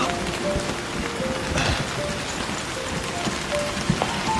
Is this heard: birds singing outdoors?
no